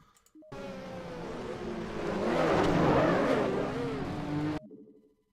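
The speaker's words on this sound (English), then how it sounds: "The car you can hear is just full throttle, so my throttle's stuck too." A race car engine in NASCAR Racing 2003 holds full throttle on a stuck throttle, a sustained moderately loud drone that swells to a peak midway and then cuts off abruptly.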